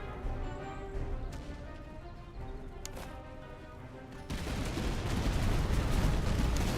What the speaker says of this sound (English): So these boys are firing kind of lengthwise into the enemy line